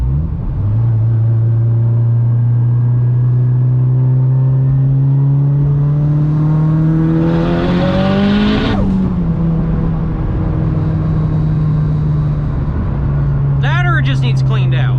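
A 600hp Mitsubishi Evo 9 over boosting pulls hard from inside the cabin, its engine drone climbing steadily to a peak near eight seconds, then dropping with a whoosh before building again, with a brief voice near the end.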